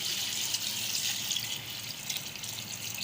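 Water poured into a cooking pot of rice, about a kilo of grains, for chicken yakhni pulao: a steady, soft, hissing splash of running liquid that continues without pause for a few seconds.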